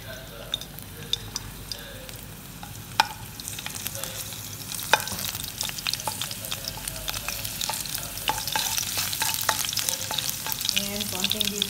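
Garlic sizzling in a superheated pan, a steady crackling fry with repeated scrapes and clinks of a utensil stirring, close and continuous.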